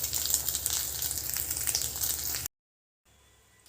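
Eggs frying in a hot pan give a steady, bright sizzle that crackles continuously up close, then cuts off abruptly into near silence with only a faint hiss afterward.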